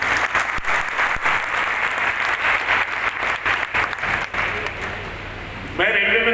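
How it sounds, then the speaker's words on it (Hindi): An audience at a business talk claps loudly and steadily in a dense burst of applause that fades slightly before stopping, leaving a brief moment of quieter room sound at the end. "एक बार जोरदार आपके लिए ताली बजाओ"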